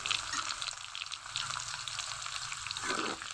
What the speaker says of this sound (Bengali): চাল কুমড়া আলু ভালো করে ভেজে নিয়েছি